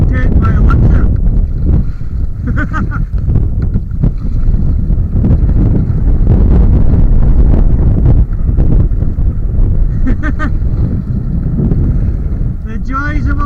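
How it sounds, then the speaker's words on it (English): Gusty wind buffeting the microphone while sea kayaking on the River Clyde near Glasgow Airport, a loud continuous low rumble with bursts of rustle; brief voice fragments come through intermittently. "The joys of a wee bit of wind."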